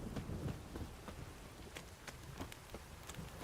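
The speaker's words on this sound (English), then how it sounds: "This downpour's a bastard, it is." Heavy rain pours down in a downpour in The Witcher video game, a dense, steady hiss of drops with scattered louder splashes and a faint rumble underneath.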